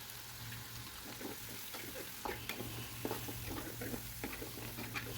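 Chili peppers frying in a pan for Sundanese nasi liwet, a steady close sizzle with scattered crackles and stirring scrapes throughout, no talk.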